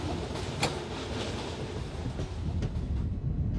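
An Indian railway train rolls along the tracks with a steady, moderately faint rumble and scattered clicks of wheels over rail joints.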